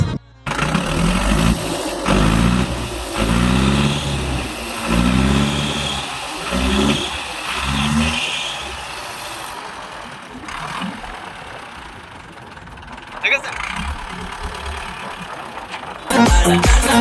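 John Deere and Hindustan tractor engines run and rev nearby, a loud, steady mechanical roar with rising throttle bursts and a rattling undertone, with voices talking over part of it and a sharp revving surge near the end.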